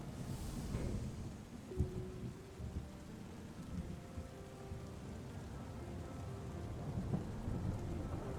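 Rain and thunder in the video game Terra Nil, a steady soft rain hiss with low rolling thunder rumbles swelling and fading, fairly quiet throughout.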